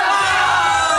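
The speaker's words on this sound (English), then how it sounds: "The crowd was quite ecstatic." A crowd at an airport gate game cheers and yells together in one loud, sustained burst.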